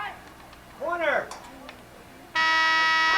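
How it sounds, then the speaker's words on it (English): A field hockey game's end-of-period buzzer sounds at a varsity match, LHS against Montgomery. It comes as one loud, steady electronic tone that starts abruptly and holds to the end, following a stretch of faint crowd noise and voices. "And there's the buzzer for the end of the third period."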